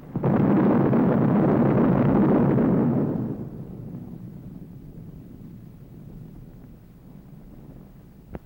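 A loud, sustained atomic bomb blast roar from a film dominates the first three seconds, then falls away into a long, low rumbling tail with a faint crack near the end.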